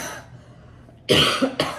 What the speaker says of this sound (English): If you guys know the L-carnitine cough, that's it.